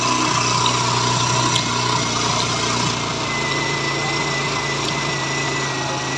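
TVS Apache BS4 motorcycle with a missing problem at 25 to 30 km/h, its engine idling steadily close up while the mixture screw is tightened, a constant buzzing hum that eases slightly in revs.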